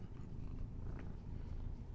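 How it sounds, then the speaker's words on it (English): A cat purring close into a microphone, a continuous low rumbling purr filling the short clip with no voices. "Want to purr into the microphone?"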